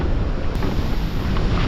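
Strong wind buffets the microphone on a seashore, a loud continuous roar and rumble with surf-like wash underneath, no speech.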